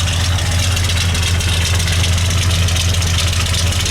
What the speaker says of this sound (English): Has a high idle when it first starts to warm up the motor. Tap the gas, it'll go back down to normal idle.